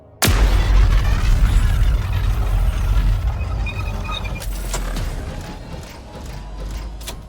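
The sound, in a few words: Sentinel Beam weapon firing, from video game Halo Infinite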